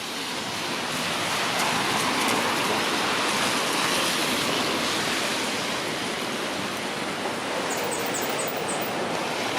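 Rain falls along Yonge Street in downtown Toronto, a steady broadband hiss of downpour and wet street noise, constant and fairly close throughout, with no voices.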